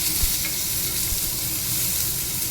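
Mustard seeds and dried red chilli frying in hot oil in a pan for a raw-tomato dal, giving a steady, close, even sizzle with a few soft stirring knocks and no voices.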